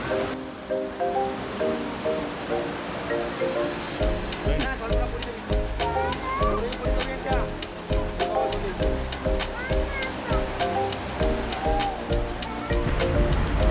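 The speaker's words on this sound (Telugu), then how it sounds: "ఫైనల్గా ఈ వాటర్ ఫాల్స్ దగ్గరికి వచ్చాం" Steady rushing water roar from nearby Tirathgarh Waterfalls, with music playing over it throughout.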